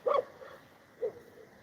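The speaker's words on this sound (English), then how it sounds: "I don't ever hear them barking, but this one nonstop today." A dog barks a couple of times on a beach in Thailand, a sharp yap followed by a shorter bark after a pause, moderately loud against quiet outdoor background.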